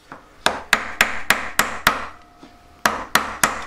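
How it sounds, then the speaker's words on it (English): A jeweller's hammer strikes a metal ring on a steel mandrel for a single-stone design, about ten sharp ringing blows in a steady rhythm with one brief pause midway, close and loud. "I'm kind of pushing it up as I hammer in it"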